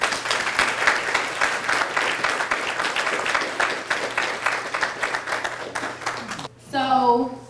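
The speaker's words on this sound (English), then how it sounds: "You can give her a round of applause." A crowd at a poetry event gives sustained applause for a performer coming to the front, dense steady clapping that fills most of the stretch before a short spoken voice at the end.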